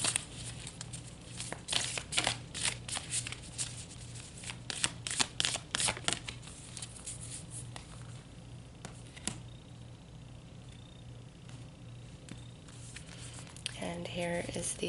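Tarot cards are shuffled in a quick run of crisp riffling and flicking bursts, closely recorded. The sound is busiest over the first six seconds and then thins out, while a person talks over parts of it.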